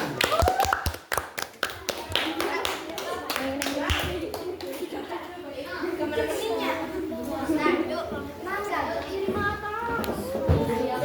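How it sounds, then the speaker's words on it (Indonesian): A class of fifth-grade pupils claps in an Islamic primary school lesson, with sharp taps and uneven claps at the start, then children's voices and chatter carrying on over scattered clapping. "Ya, tepuk tangan."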